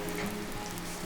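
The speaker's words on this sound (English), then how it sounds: "I've basically been walking in rain and it's been fantastic" Steady rain falling during a walk through Baviaanskloof, a soft, even hiss of drops on the surroundings that holds at a constant low level for the whole moment, with no voices.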